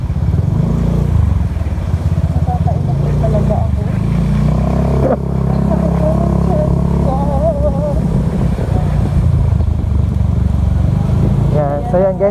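A motorcycle rides in wet, stormy conditions with a loud, continuous engine drone and road rumble, while voices talk over it throughout.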